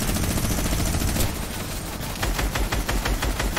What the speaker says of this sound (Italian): Spari ora.